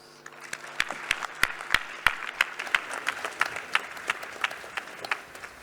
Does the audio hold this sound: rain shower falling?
no